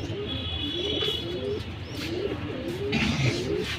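Pigeons coo repeatedly in a loft of fancy breeds, soft throaty calls overlapping at close range over a steady murmur of the flock, with no talk.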